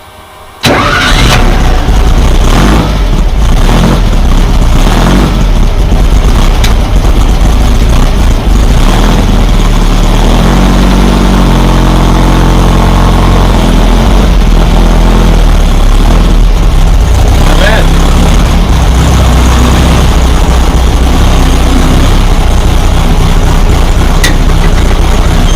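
Volkswagen Beetle engine starting up while connected to a transaxle under test, cranking briefly then catching into a loud, steady, close idle that runs continuously with slight fluctuations.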